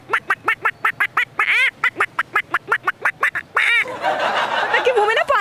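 A person rapidly imitates a duck's quack, a run of about fifteen short nasal quacks in steady rhythm, then breaks into breathy laughter.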